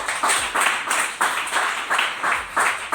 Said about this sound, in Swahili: Pika Yesu makofi mazito.